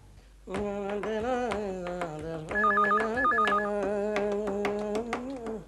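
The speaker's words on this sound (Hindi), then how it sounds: "एक मिनट, मैं अभी केशव जी को फोन देता हूँ।" A telephone rings with a short, warbling electronic double trill. It sits in the middle of a Hindi sitcom scene, mixed faintly under a sustained musical background.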